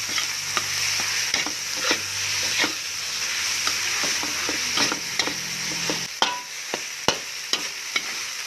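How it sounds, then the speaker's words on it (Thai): Rice is stir-fried with tamarind chili paste in a wok, with a steady close sizzle broken by scraping turns and sharp clicks of a spatula against the pan, the strokes growing more distinct toward the end. "ใส่น้ำพริกลงไปเลยค่ะ แล้วก็ผัดคลุกเคล้าให้เข้ากันค่ะ"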